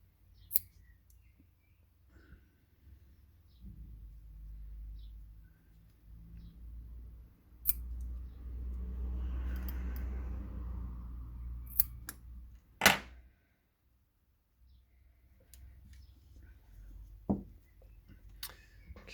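Sharp scissor snips trimming the loose ends of lashing cord on a koru lashing, a few crisp isolated clicks spaced apart over quiet handling rustle.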